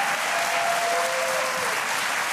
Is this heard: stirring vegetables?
no